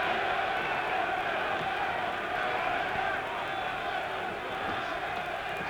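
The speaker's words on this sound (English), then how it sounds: "Tremendous German crowd here, ready to cheer this man on to victory if they can." A large German crowd at a 1966 heavyweight boxing bout keeps up a steady, dense roar of cheering and murmuring throughout, and a commentator's voice can be heard over it.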